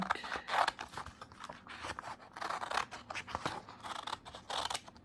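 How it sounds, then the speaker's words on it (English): Scissors snipping leftover paper strips, crisp rhythmic cuts in quick repeated bursts, close and fairly loud with no talking. "let's cut that up."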